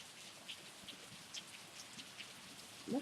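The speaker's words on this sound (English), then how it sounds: "Look how hard it is raining." Heavy rain pours outside a window in Redlands, California, a steady close hiss with scattered drip spatters and a brief louder patter at the end.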